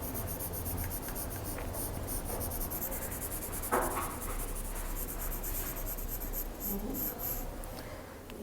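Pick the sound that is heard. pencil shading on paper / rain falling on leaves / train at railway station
pencil shading on paper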